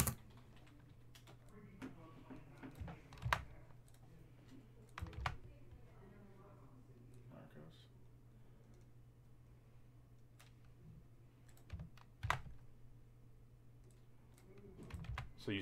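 Computer keyboard typing in bursts of quick, light clicks during a Topps Transcendent baseball card case break, with a steady low hum underneath and occasional louder taps; no one speaks over it.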